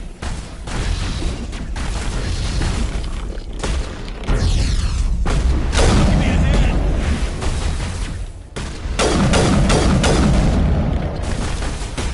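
A grenade goes off in the Mass Effect video game, producing loud booming blasts with crackling debris and bursts of gunfire-like pops over about twelve seconds, without any speech.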